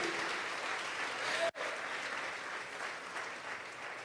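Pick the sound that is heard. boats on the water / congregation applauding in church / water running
congregation applauding in church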